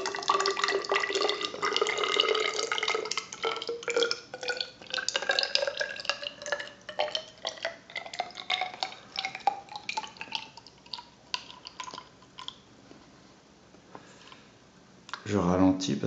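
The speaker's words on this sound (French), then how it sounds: "Je verse 100 ml dans l'éprouvette." Mango nectar poured into a graduated cylinder to measure 100 ml, a close trickling stream whose pitch rises as the cylinder fills, breaking into drips and clicks as the pour slows, then a final splash and knock.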